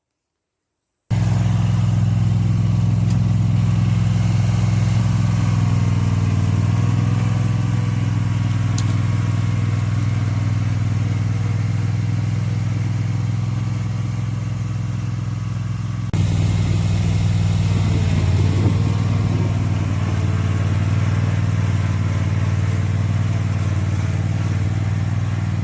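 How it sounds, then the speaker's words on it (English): A mower engine running close by on a jackfruit farm, a steady, loud mid-pitched drone with faint clatter, briefly shifting partway through and continuing without talk. "So you would have seen that we use the mower and the mower trailer"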